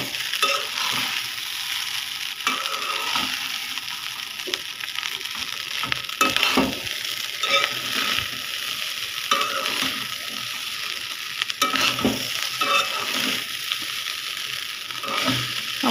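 Reheated biryani is stirred in a hot pan, with a steady soft sizzle under repeated scraping sweeps of the spoon at close range.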